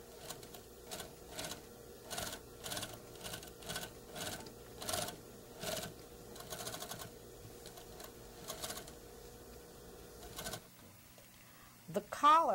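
A sewing machine crack-stitches a collar in place along its seam line on a draped garment, running in a steady series of short rhythmic bursts at close range before falling quiet near the end.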